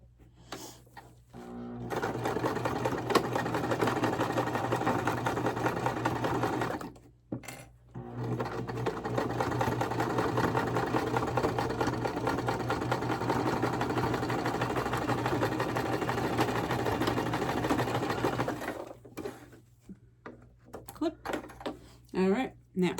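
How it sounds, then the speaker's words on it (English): A sewing machine runs a half-inch seam across a dish drying mat, a steady close mechanical whir in two long bursts broken by a brief pause, with faint handling noise at the start and end. "we're going to sew across here with a half inch seam allowance"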